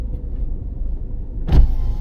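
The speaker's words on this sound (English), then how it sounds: "Open the window." A car's electric power window motor runs briefly during a driving lesson stop, a short whirring burst near the end after a steady low engine idle inside the cabin.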